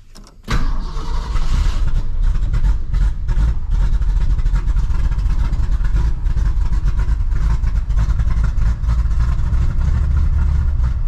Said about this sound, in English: We're idling with the choke on.